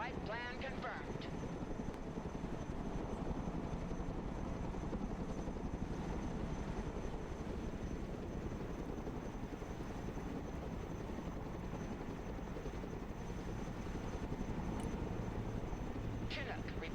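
A Chinook heavy transport helicopter flies in the Broken Arrow video game, a dense, continuous rotor and engine drone that holds steady and loud for the whole stretch, with a faint higher tone near the start and end.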